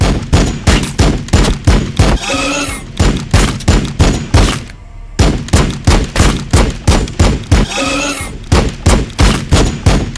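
Gunfire in the Warhammer 40,000: Battlesector video game: loud, steady volleys of heavy shots in repeated bursts, with a short lull midway before the firing resumes.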